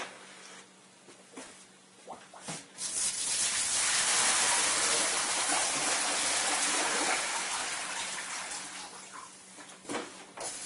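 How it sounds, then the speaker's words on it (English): Fresh water rushes through the pump of a water ionizer during cleaning, a broad hissing gush that swells after a few clicks, holds steady for several seconds, then tapers back to scattered small knocks. "I'm just going to run some water, some fresh water through the pump."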